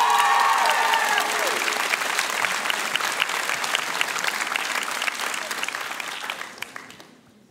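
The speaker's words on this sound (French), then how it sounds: "Moult applaudissements pour Safia Chanaoui" A school audience applauds a finalist at a high-school eloquence contest final, dense sustained clapping that fills the hall loudly, then gradually thins and fades away.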